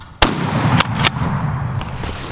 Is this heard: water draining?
no